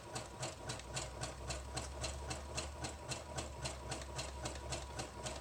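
Sewing machine stitching a journal cover, a quiet rapid rhythmic chatter of the needle with regular pulses over a low motor hum, close and steady.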